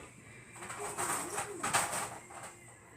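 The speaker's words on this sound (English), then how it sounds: "there's a bird over there" A pigeon or dove cooing outside a house, soft rounded coos repeating a few times at a distance over a steady background hiss, with no one speaking.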